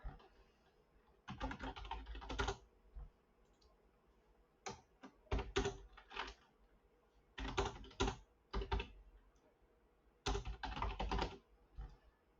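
Computer keyboard typing heard up close in several rapid bursts of clicky keystrokes, separated by short quiet pauses, with no talk.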